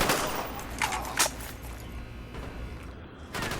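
SMG fire in Call of Duty Black Ops: a few short, sharp gunshot bursts near the start and again near the end, over a steady background of game ambience.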